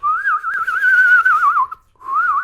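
A person whistles a sustained, wavering melodic tone for about a second and a half, breaks off briefly, then resumes; close and clear with no talking.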